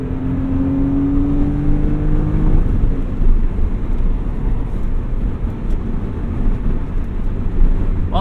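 A 1999 Dinan-tuned BMW M Roadster engine revs up loud and close, the pitch climbing through a gear before settling into a sustained, rough, full-throttle roar of acceleration.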